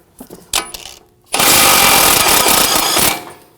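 On a Volvo S60, an impact-style power tool spins the outer tie rod end nut in one loud, rattling burst of about two seconds. Short taps and clicks come just before it.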